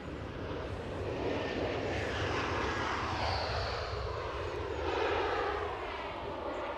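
A passenger airplane arrives at Edinburgh Airport, its steady broadband engine roar loud and sustained throughout, swelling slightly near the end with no voices.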